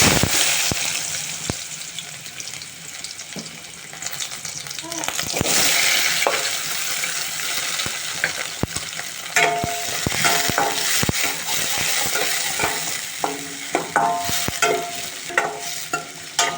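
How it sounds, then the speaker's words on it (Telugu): Chopped onions go into hot oil with cumin and mustard seeds for a green peas curry. A loud, crackling sizzle settles into steady frying, broken by sharp clinks and scrapes of stirring. "జీలకర్ర ఆవాలు వేగిన తర్వాత ఉల్లిగడ్డలు వేసుకోండి"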